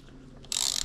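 A ratchet cranking a bolt tight, giving a short burst of rapid, close metallic clicking that starts abruptly about halfway through after a quiet lead-in.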